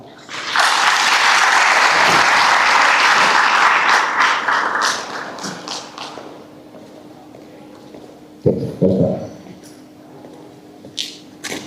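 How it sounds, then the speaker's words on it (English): Graduation ceremony audience claps for the first speaker, a loud dense burst of applause lasting about five seconds before fading out, followed by a few scattered knocks and footsteps in a quiet hall. "kindly let us clap for our first speaker"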